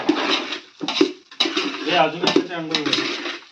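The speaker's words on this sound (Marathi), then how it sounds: "मी देवाची भांडी घासा चाललोय" Close clatter and scraping of metal worship vessels being scrubbed, with intermittent clinks, while a person talks over the noise.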